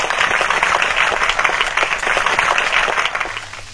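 Applause from the audience at the opening ceremony of an old-age home, steady and moderately loud for several seconds before tapering off at the end.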